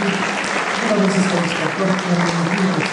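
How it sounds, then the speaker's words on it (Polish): Loud, sustained applause from a sizable crowd at a sports awards gala in Puck, Poland fills the clip, with a voice talking faintly underneath. "Jeszcze raz brawa dla najlepszych"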